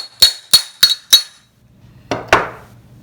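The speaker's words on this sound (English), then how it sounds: "You simply drive the axle" Four sharp metallic hammer strikes in a steady rhythm drive out a cartridge-bearing bicycle hub axle, followed by two louder, ringing blows after a short pause, all close and without speech.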